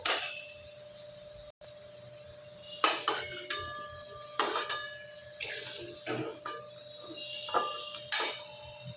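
Fried potatoes lifted out of a pan of oil, a series of sharp metallic clinks and ringing scrapes of a spoon against the pan at irregular intervals over a quiet background.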